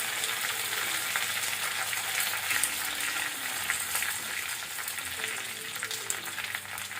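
Curry leaves, chillies and mustard seeds fry in hot ghee for a dal tempering, giving a steady, close, crackling sizzle that carries on evenly with faint stirring and no talk.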